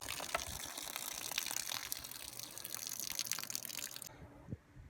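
Water pours steadily in through an open boat hatch during a simulated monsoon rain, a dense continuous rushing and splashing that is close and fairly loud, then stops abruptly near the end.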